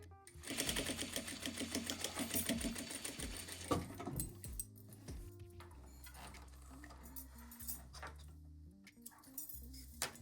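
A sewing machine runs in a steady rapid whir of stitching for a few seconds, then stops, leaving faint clicks and handling noises.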